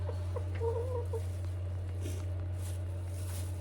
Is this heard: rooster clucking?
yes